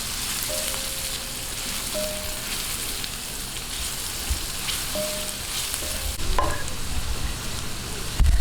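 Onion and garlic sizzle steadily in a hot pan while chicken hamonado is prepared, with stirring scrapes and a few utensil clinks near the end; no one speaks.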